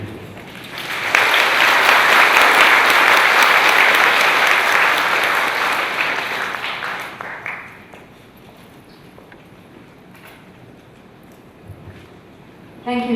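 An audience claps after a talk at the 2017 joint annual conference of the Asian Real Estate Society and Global Chinese Real Estate Congress. A sustained burst of applause swells quickly, holds for several seconds, then tapers into a quiet hall.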